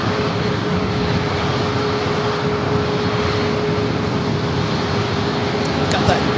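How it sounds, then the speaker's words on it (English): An Alaska Airlines Boeing 737 MAX 9 jet at San Diego airport produces a steady, loud broadband engine roar that holds evenly throughout, with a faint whine running underneath. "Followed by Alaska flight 475 heading to Seattle at a 737 MAX 9."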